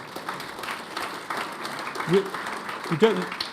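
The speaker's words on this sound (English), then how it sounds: "rarely get applause before you speak at Chatham House" Applause from an audience greeting a panel speaker at Chatham House, a soft, fairly distant patter mixed with murmuring voices and a few louder vocal bursts.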